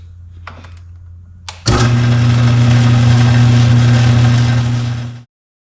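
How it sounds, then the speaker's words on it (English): A small lathe spins up with a sharp start and runs steadily with a loud mid-pitched motor hum and whine while a metal ring is polished with fine polishing paste, then stops abruptly. "All right, turn the lathe on and see what happens."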